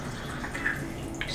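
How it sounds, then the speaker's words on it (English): French press coffee pours into a cup in a kitchen, a short, soft trickle of liquid splashing close by with faint drips, heard alone. "push the French press plunger all the way down and then pour it into my Disney cup"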